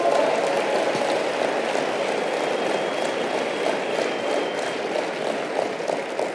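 Steady, dense applause from an audience at a motivational talk, a continuous wash of clapping that stays loud and even throughout with no voices over it.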